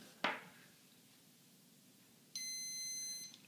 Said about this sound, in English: long beep, bring it down,